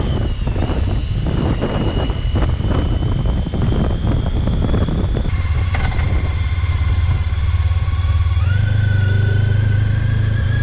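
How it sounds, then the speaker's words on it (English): A motorcycle engine runs steadily up close, loud and continuous, with a rough low rumble and wind buffeting, the pitch shifting partway through. "It's good to be on a motorcycle in these situations."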